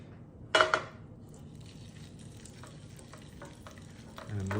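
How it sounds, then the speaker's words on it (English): Polenta drops into hot oil with a sharp burst of sizzling, then a quieter steady frying hiss, and a utensil clatters against the pan at the end. "We want it to be warm enough when we add the polenta that we hear a good sizzle."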